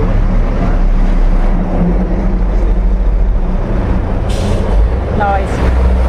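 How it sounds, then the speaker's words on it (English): Lorries rumble past in a loud, steady roar, and a short air-brake hiss cuts through near the end. Voices are heard faintly in the background. "Yeah, the lorries."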